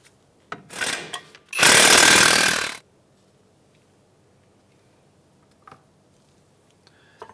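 An impact wrench fitted with a 19 mm socket works a suspension bolt on a 2007-2015 Mazda CX-9. It gives two loud close bursts, a short rattling one and then a longer hammering run of about a second. Quiet follows, broken by faint clicks.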